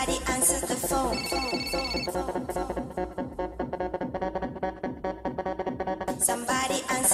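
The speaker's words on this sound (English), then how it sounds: "Somebody answer the phone." A telephone rings repeatedly in a rhythmic pattern woven into a busy electronic music track, with steady beats and synth layers carrying the ringing throughout.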